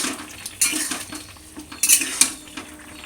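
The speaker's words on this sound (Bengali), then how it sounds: "এবারে কিছুটা নেড়ে চেড়ে নাড়বো।" A utensil stirs cooked food in a metal pot: close, irregular scrapes and clinks against the pan with a few sharper knocks, plus a faint sizzle underneath.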